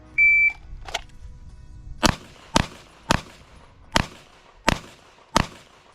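A shot timer's short electronic beep starts a pistol drill, followed by six sharp, loud gunshots at roughly even intervals of under a second, first three with both hands and last three with the dominant hand only.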